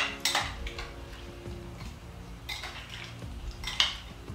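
A spoon clinks against a glass bowl while strawberry salad is mixed with port and grenadine, giving a few bright, close chimes over soft wet stirring.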